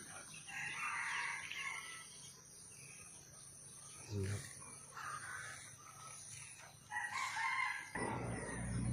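Roosters crow a few times, moderately far off, while insects buzz steadily in the background.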